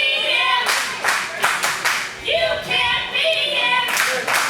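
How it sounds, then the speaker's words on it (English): A wrestling arena crowd cheers and claps at a live show, with bursts of applause and a chanting roar rising and falling over several seconds, full and close. "listen to the crowd here at the MPW arena shouting, "You can't beat him.""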